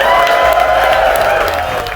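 An outdoor crowd at a 24 Hours of Lemons endurance race at Michelin Raceway Atlanta applauds and cheers for the flaggers, tow truck drivers and safety crews, with dense steady clapping and a few whoops throughout.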